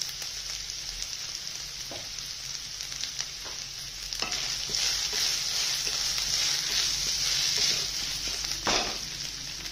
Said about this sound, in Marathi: कांदा चांगला परतून घ्यायचा, नरम करून घ्यायचा